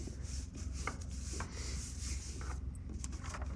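Soft, steady rubbing and brushing close by, faint and continuous, with a few light taps, as a hand presses glued paper flat onto a surface.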